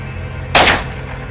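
A single sharp gunshot-like blast, loud and close, cuts through a low steady hum in a tense film scene with no talk around it.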